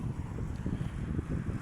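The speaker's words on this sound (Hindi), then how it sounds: "तो हवा चल रही है अच्छी" Wind gusting outdoors on a walk from Glasgow airport toward Renfrew beside water and a bridge, a steady low rumble of buffeting against the microphone with no talking.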